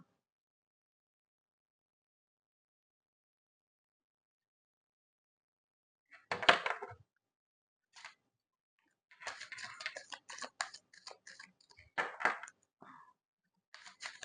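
Tarot-style cards being shuffled by hand at close range, a quick flurry of papery riffling bursts followed by several more clustered shuffles separated by short pauses, with no voices.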